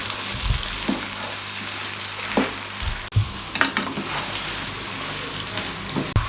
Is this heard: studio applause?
no